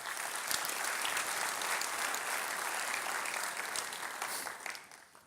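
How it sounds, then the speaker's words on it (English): An audience at a Long Beach business event applauds the council members, a dense, sustained round of clapping lasting about five seconds before tapering off. "Can we give them a round of applause as well?"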